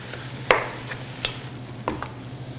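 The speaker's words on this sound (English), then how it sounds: "we're browning our meat" Meat browning in a pan on a farm, with three or four distinct spoon scrapes against the pan over a low steady background hum.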